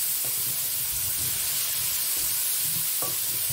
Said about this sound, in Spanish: Y así desglasamos la sartén.